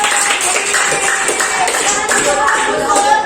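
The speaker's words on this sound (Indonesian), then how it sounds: "kita beri tepuk tangan untuk kelompok busur" A classroom of sixth-grade students applauds a group of classmates, a continuous patter of many hands clapping at close range, mixed with chatter throughout.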